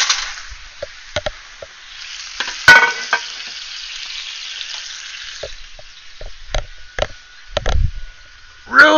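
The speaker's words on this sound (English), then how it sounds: "go ahead and sizzle that up." Garlic toast frying in a pan over high heat gives a steady bright sizzle throughout, with occasional clinks and scrapes of stirring and utensils.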